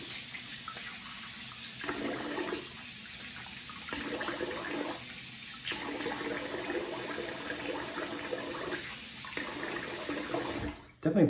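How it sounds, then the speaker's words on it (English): Tap water runs and splashes in repeated bursts as a face is rinsed over a sink after a shave with a double-edge safety razor, each splash lasting a second or so with steady flow between. "let me rinse the face here"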